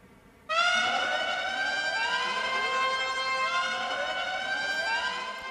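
A synth vocal preset called Approaching from the Exhale plugin enters abruptly and holds a bright, sustained, harmonically rich tone with slowly gliding overtones, loud and alone for about five seconds.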